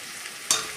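Onions sauté in a pan for samba rava upma, a soft steady sizzle that flares into a louder burst of frying as they are stirred.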